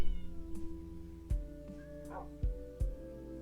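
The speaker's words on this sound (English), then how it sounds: "I hear a cat." A cat meows a few times in Minecraft, with soft thuds and electronic tones around it and no speech.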